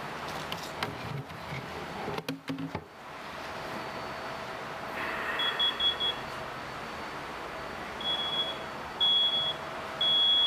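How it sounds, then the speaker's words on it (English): High-pitched electronic beeping from a photoelectric smoke alarm, sounding in short repeated bursts over a low background hum, after some clunking handling noises. "5 seconds is all it took for the photoelectric smoke alarm to go off"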